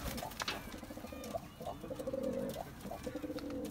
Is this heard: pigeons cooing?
yes